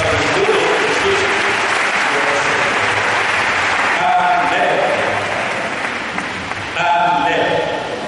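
Loud, sustained audience applause and cheering fill a church gathering, a dense wash of clapping that swells and holds throughout, with a voice briefly calling out over it.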